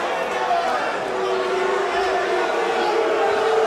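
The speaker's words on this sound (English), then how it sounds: "The crowd want to see them on their feet again." Crowd at the Titan Fighting Championship 17 MMA bout between Lashley and Ott, a steady murmuring roar of spectators filling the venue with shouts blending in, under commentary throughout.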